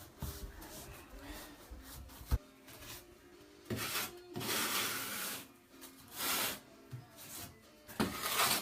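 Scraping residue off a surface during a full bathroom remodel, a steady rough rasping and rubbing that comes and goes in several strokes over about eight seconds, fairly close, with brief louder bursts and no clear talk.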